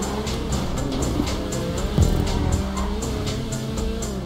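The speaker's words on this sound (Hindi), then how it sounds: "क्या टर्न्स लेते हो ये गाड़ी।" Car tyres squeal and skid through a turn in a racing video game, a continuous high screech over a loud engine drone with a sharp bump partway through.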